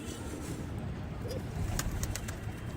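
Solid-bodied pigeons coo low and steadily in a loft, a soft continuous murmur close by, with a few faint higher chirps from other birds.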